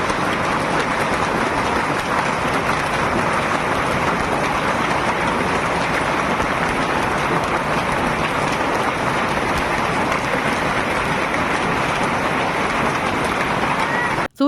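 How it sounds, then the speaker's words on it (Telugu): Hail and heavy rain pouring down in Telangana, a dense, loud, unbroken hiss and patter of stones and drops striking surfaces, continuous throughout with no talk. "మొత్తం వడగల్లే పడుతున్నాయి ఆకాశంలోకెళ్ళి"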